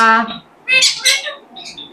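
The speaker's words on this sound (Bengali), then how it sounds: "খুবই চমৎকার কোয়ালিটির ময়না পাখি দেখতে পাচ্ছেন" A myna bird gives harsh, raspy squawks in short bursts, loud and close, with brief pauses between calls.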